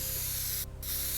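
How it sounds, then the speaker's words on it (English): A spray can in the physics game Teardown gives a loud, continuous hiss, broken by a brief gap before the spray resumes, with no voices over it. "I want to get used to using the spray can now, just as practice"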